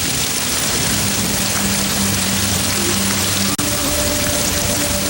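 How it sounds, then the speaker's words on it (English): Steady rain falls in an outdoor California setting, a loud continuous hiss of drops with a low rumble underneath and one brief sharp click partway through. "It's starting to rain."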